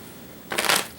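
A deck of board game cards is shuffled in one quick, close riffling burst lasting about half a second after a quiet start.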